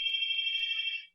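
A single sustained electronic telephone ring, a steady high tone lasting about a second before cutting off, alone and fairly faint.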